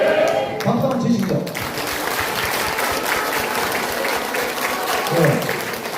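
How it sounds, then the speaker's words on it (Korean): An audience at a Korean talk show claps in a dense, sustained burst of applause that stays loud for several seconds, with a voice talking over it. "박수 한번 치시죠."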